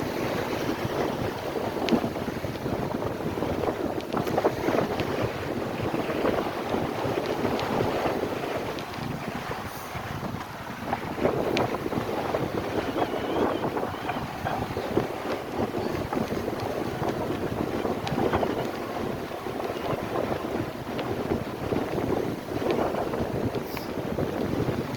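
Strong, steady wind buffets the microphone on Fort Myers Beach, Florida, with a constant roaring rush and gusty fluctuations throughout, and no voices.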